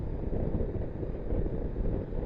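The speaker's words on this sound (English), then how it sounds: "A little windy." Steady wind buffeting the microphone during a ride, a constant low rumbling roar with no voices, holding evenly throughout.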